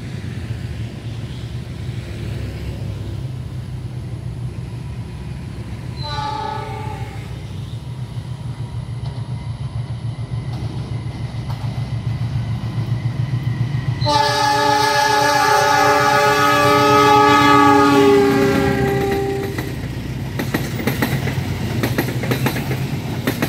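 A diesel locomotive, former Turangga service unit Gopar 43, rolls through Purwakarta station in Indonesia with a steady engine rumble, sounding a brief horn blast and then a long loud multi-tone horn as it passes close by.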